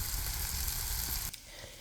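Bitter melon stuffing fries in a pan on a gas stove, giving a steady, close sizzle that thins out abruptly near the end.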